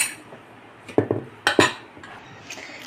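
A spoon mixes bottle gourd handvo batter in a bowl, producing a handful of sharp metallic clinks and scrapes in short clusters over a quiet background.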